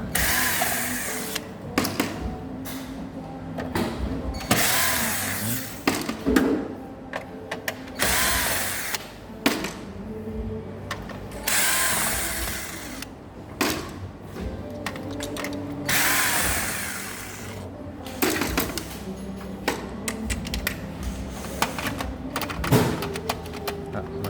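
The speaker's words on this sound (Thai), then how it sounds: "ขันน็อตออกนะครับ น็อตทั้งหมด5ตัว" A power screwdriver removes the five screws from a Fuji Xerox ApeosPort-IV C3375 copier, giving repeated close whirring bursts separated by clicks, handling noise and short pauses.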